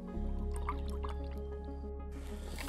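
Water pours into a cup to mix a peach energy drink at an outdoor Arctic field camp, a close trickling and filling sound over a steady low hum, stopping briefly before a hissy tail.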